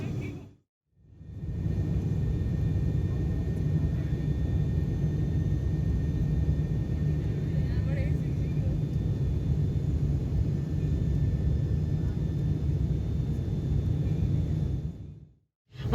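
A passenger airliner lands at Kathmandu in instrument weather conditions, heard from inside the cabin as a steady, loud, low engine and air roar that holds evenly throughout, cutting in and out at the edges.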